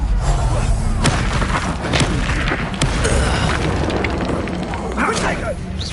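Explosive spell blasts from the Hogwarts Legacy video game, a loud boom over a dense, constant battle mix with repeated impacts and chatter-like clutter throughout.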